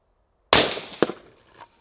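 A rifle fires once from an improvised stump rest, a sharp loud crack followed about half a second later by the fainter smack of the bullet striking a distant target, then a small far echo.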